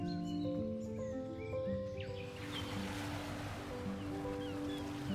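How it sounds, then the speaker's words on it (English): Sea waves crash against Irish coastal cliffs in a steady broad roar of surf. Faint bird calls drift above the wash, and no one speaks. "the sound of the waves crashing far below"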